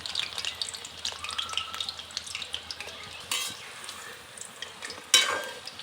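Chicken pakora fries gently in oil on low heat, a soft steady sizzle with light crackles, then a couple of louder metallic utensil clatters near the end, no voices.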